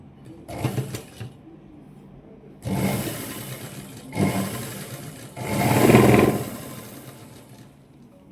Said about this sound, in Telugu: పట్టీ అయితే ఉక్సులు పట్టీ నుంచి స్టార్ట్ చేయాలి. ఇది ఉక్సులు పట్టీ. ఇలా పెట్టేసి ఇలా మడత పెట్టుకొని క్లాత్ని ఇలా పెట్టేసి ఇలా కుడుతున్నాను